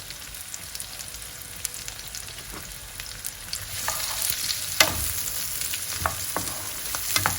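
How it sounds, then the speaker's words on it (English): Chopped onion sizzles quietly in a pan, with a soft, steady frying hiss broken by occasional clicks and scrapes of stirring that grow a little louder partway through. "Then goes in the chopped up onion. I'm gonna cook this for 5 minutes or so until it begins to get a little bit of color."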